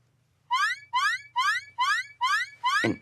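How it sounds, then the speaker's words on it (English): A loud electronic alarm blares in six evenly spaced rising, whooping bursts, each about half a second long, over a low steady hum, with a brief thud at the end. "An alarm?"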